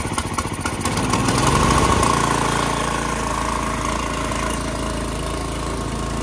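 A snowblower's small engine catches on a pull start, rising to a loud, rough roar and then settling into a steady, even idle that carries on alone to the end.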